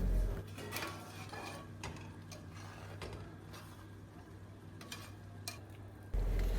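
A spoon scrapes repeatedly around a pan of curry with ground coconut paste in an irregular rhythm, with a soft sizzle of cooking underneath and no voices.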